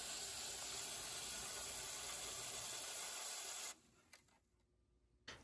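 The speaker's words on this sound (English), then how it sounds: "So I'll just fill the bottom up with water." Water is poured into the shallow bottom of a tray holding 4-inch herb pots indoors: a steady, close hissing rush for about three and a half seconds, then it stops, leaving a couple of faint clicks in near silence.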